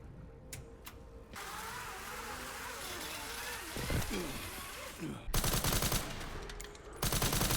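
Machine guns fire in dense rapid bursts during Resident Evil 9 gameplay, sounding loud and rattling late in the clip. Rumbling game ambience and engine-like noise sit underneath.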